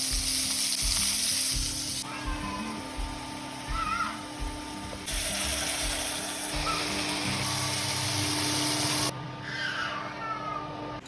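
Slices of pointed gourd (potol) fry in a pan with a loud, steady crackling sizzle and occasional stirring scrapes, heard close up with faint background sounds and no talk.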